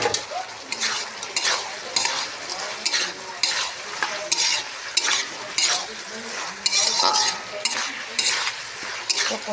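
A meat curry with fried potatoes is stirred and braised in a pan. A spoon scrapes in repeated, rhythmic strokes over a steady sizzle, with occasional metallic clinks against the pan, close and fairly loud.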